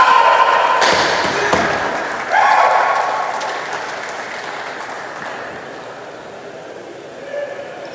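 Crowd applauding at the men's final of the US Open of four-wall handball, loud clapping that swells twice then tapers off, with a commentator talking over it.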